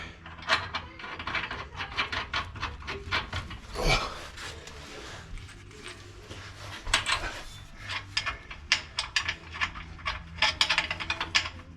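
Nylon lock nuts hand-threaded onto bolts while fitting a six-inch lift kit on a Ford Super Duty, giving close, irregular clicking and light metallic ratcheting in quick bursts.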